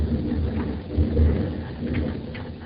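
Thunder rumbles low and steady through a storm with rain falling, a continuous rolling roar that swells slightly midway. It is heard alone with no voices.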